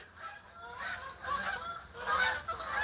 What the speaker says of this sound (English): Listen to the birds outside.